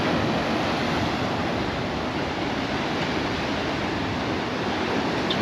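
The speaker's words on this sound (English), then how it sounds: "You can see over there the sea wall is really getting battered." A continuous loud roar of surf, heavy waves battering a sea wall at Ca'n Pastilla, Mallorca, crashing and churning nearby with constant wind-like noise throughout.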